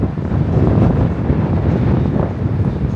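Wind gusting at the top of the Tower of the Americas observation deck high above San Antonio, a steady loud broadband rush buffeting the microphone throughout, with no voices.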